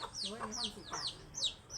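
Young chickens cluck and peep near a rural home, a run of high, quick, falling chirps repeating in uneven bursts close by.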